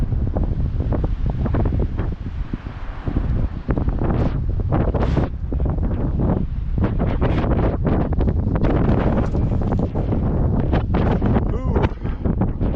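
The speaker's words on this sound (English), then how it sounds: "As we listen to the howling wind." Howling wind on an outdoor Easter walk, a loud continuous roar buffeting the microphone in rough gusts throughout.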